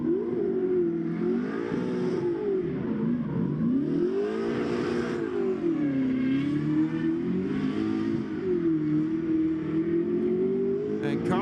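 Drift car engine revving hard through a competition run at a SPEC-D Pro Drift Series qualifying event, the note rising and falling continuously as the car holds angle, loud and steady under a commentator's voice.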